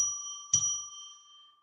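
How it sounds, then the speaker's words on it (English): A small bell is struck once, sharp and clear, and rings out in long, steady tones that fade slowly in a quiet room. The tail of an earlier ring is still sounding at the start. "I am going to ring a bell 3 times to declare sacred space."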